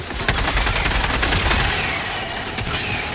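A Helldivers 2 mortar sentry and other weapons fire in rapid, overlapping bursts, loud and dense, with sharp cracks standing out near the start and end.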